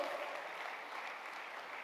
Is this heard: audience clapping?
yes